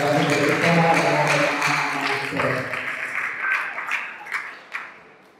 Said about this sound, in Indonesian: Mari kita berikan tepuk tangan yang meriah kepada yang berbicara.